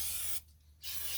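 Pam cooking spray hisses onto silicone egg rings in two short bursts, close and clear, separated by a brief quiet gap.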